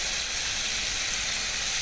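Sliced potatoes frying in a pan of hot oil, a steady, loud, close sizzle with no pauses and no talk.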